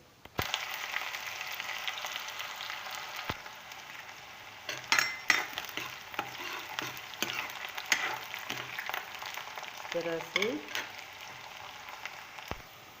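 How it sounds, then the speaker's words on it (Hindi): Hot mustard oil crackles and sizzles steadily for several seconds as a tempering is fried for sarson ka saag, with a few sharp clinks of a utensil against the pan. "तो जो मेरा तेल है वो बिल्कुल गर्म हो चुका है, तो डाल देती हूँ मैं अब इसमें"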